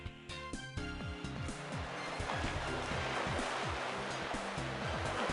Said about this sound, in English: She only whirled the water into a bigger froth with more spray.